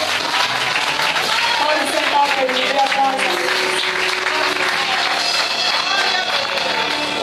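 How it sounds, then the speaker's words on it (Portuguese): A congregation applauds in a Portuguese-language church service, a steady crowd of clapping hands with some cheering and a faint melodic tone beneath, while someone speaks over it. "Você pode aplaudir ao Senhor."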